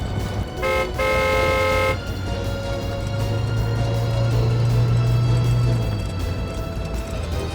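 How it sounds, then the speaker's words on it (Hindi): Car driven very fast in traffic, with a loud horn blast and toots at the start over a steady engine and road roar, the motor pitch swelling midway. "जो कोई भी है, गाड़ी बहुत तेज चला रहा है"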